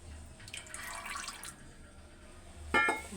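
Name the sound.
pouring sesame oil into a pot of coconut oil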